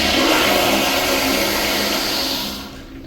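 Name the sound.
American Standard Neolo 1.6 gallon toilet flushing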